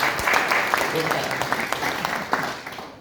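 Brief clapping from a lecture audience, scattered and fairly close, with a few sharp individual claps standing out as it fades over about three seconds.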